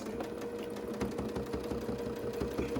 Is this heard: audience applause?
no